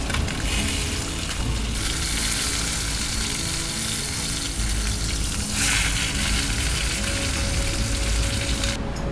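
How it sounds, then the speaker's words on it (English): Breaded cod frying in a pan outdoors on a cliff-top fishing trip, a steady dense sizzle running throughout at close range, with no talking. "I'm going to throw on some of the breakseed cod, start cooking at the same time."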